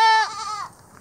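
An Angora goat gives a single loud, close bleat that wavers and trails off, heard during hand shearing with non-electric shears on a hillside farm.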